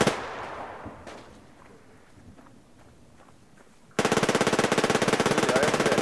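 Rapid automatic gunfire in the online shooter Survarium bursts in after a quieter stretch of faint footsteps and ambience, loud and continuous with a fast, even rattle.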